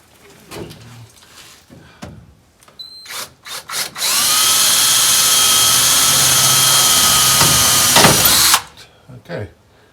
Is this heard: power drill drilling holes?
yes